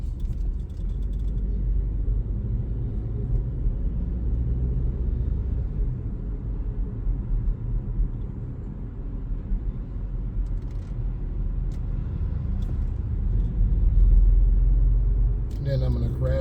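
A car picking up speed as the throttle is fed gradually, a steady low engine and road rumble running throughout and swelling slightly near the end, with a person talking over it.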